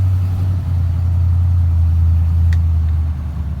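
A 1972 Ford F-350 Crew Cab's engine holds a deep, steady drone up close as the truck pulls away, easing off slightly at the end.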